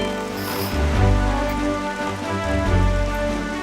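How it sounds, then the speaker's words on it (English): Steady rain pours across the sea while sailing in The Legend of Zelda: The Wind Waker HD, a dense continuous hiss layered over low game music, with no one speaking. "Oh no, it's starting to rain."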